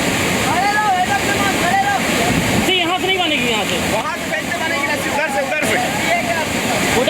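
Roaring flood water with strong waves in Madhya Pradesh, a loud continuous rush under excited shouting voices of onlookers.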